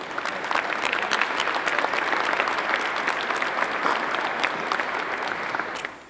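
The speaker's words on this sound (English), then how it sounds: "give yourselves a nice round of applause" Sustained applause from an audience gathered outdoors at an airport runway re-dedication event, a steady dense wash of many hands clapping at close range that keeps going throughout and cuts off abruptly at the end.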